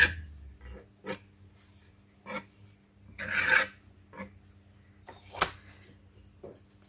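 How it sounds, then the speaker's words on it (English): A palette knife scraping the edges of acrylic molding paste, several separate rasping strokes at an irregular rhythm, close and fairly quiet, no talking. "I just scrape my edges a little bit if you want to put a frame around this."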